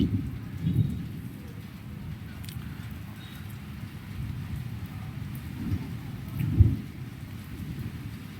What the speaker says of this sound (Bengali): বছরের মৌসুমের প্রথম বৃষ্টি, সাথে বজ্রপাত, বিদ্যুৎ চমকাচ্ছে।